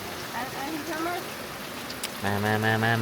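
Heavy rain pours near a rice field hut, a steady broadband wash throughout, with people talking over it and a sustained tonal sound entering loudly near the end.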